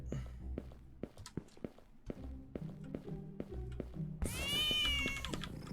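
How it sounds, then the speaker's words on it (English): Cat meowing in the cat-based horror game Howler for an Hour: soft tapping footsteps patter along before a loud, drawn-out wavering meow bursts in close at the end. "that cat keeps jump scaring me"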